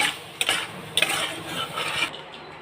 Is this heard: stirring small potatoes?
yes